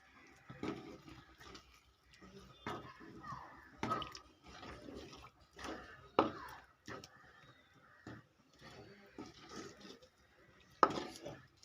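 Beetroot being stirred and mixed in a pan for a coconut beetroot sweet burfi, giving scattered clinks and scrapes of a utensil against the pan at an irregular pace, close and moderately quiet.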